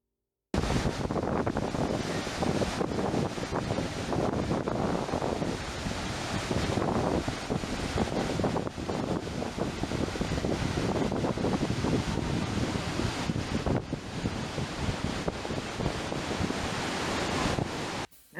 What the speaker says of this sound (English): there's still quite a bit of water coming down the falls.